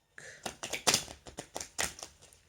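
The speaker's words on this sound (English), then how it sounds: "So yeah, I am shuffling these cards." Tarot cards are shuffled by hand in quick, close, fairly quiet riffles and taps, about a dozen crisp bursts in an uneven rhythm, with no one speaking.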